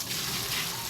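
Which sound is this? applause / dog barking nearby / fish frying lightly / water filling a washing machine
water filling a washing machine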